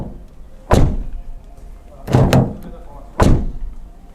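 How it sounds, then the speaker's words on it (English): Three solid Ford Transit Custom van door thunks, spaced about a second apart, each a heavy close slam with a short decay and quiet between. "Now just listen to the sound of the door"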